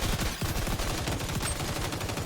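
Continuous rapid fire from a submachine gun in the shooter game XDefiant, a steady dense stream of shots lasting the whole stretch.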